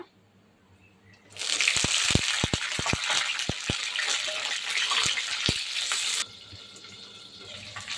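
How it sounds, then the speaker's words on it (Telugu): Green chillies drop into hot oil in a pan and set off a loud, steady sizzle that starts abruptly and holds for several seconds. Sharp crackles and pops break through it at intervals, and the frying then drops back to a quieter hiss. "ఇప్పుడు ఇదిగో పచ్చిమిరపకాయలు అయితే వేసేసుకుందాం అన్నమాట."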